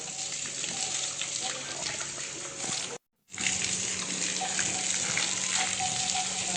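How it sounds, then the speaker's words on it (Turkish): Running water splashes steadily as people wash their heads and wrists outdoors in the heat at a livestock setting. The pour is broad and continuous, with a brief break near the middle, and voices speak quietly underneath. "Hem kendimizi yıkıyoruz hem bileklerimizi yıkıyoruz."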